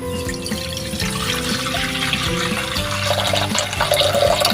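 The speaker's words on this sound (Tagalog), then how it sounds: "lagyan po natin ng tubig yung kaldero" Water pours steadily into a cooking pot, a continuous splashing and gurgling that grows slightly louder toward the end.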